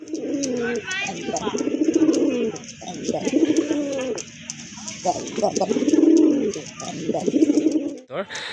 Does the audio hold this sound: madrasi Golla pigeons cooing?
yes